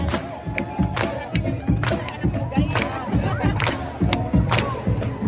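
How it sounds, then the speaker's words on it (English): A festival crowd in Malaysia chants a repeated call in rhythm with steady, pulsing claps and shouts, lively and close, with a voice leading over the group. "Everybody say, oh ha! Oh ha! Oh ha! With the clap, clap, clap, clap, clap."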